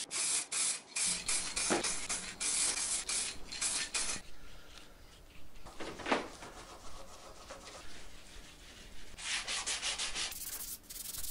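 A cloth soaked in methylated spirit is rubbed along a painted staircase handrail, producing close, loud, rhythmic scrubbing strokes with brief pauses between passes.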